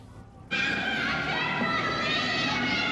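Children in a dragon boat cheer and shout in support of Ukraine, a loud sustained burst of young voices that breaks in suddenly after a brief quieter moment and carries on to the end.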